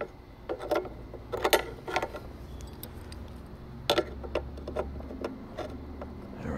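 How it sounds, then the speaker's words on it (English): A wrench tightens a retainer nut on an electric ducted fan mount of an RC airplane, giving a series of faint, close metallic clicks and ratcheting ticks in irregular bursts over a quiet background. "Let's cinch that nut down."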